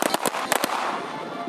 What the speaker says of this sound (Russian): Открыли мемориал с воинскими почестями – почетным караулом, оружейным салютом